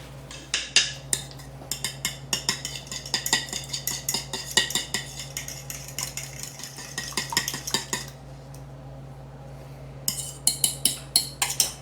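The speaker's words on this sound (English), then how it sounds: "Keep stirring, just keep stirring." Rice pudding with egg being stirred in a cast iron pot, with a spoon scraping and clinking against the metal in quick irregular bursts over a low steady hum, close and clear.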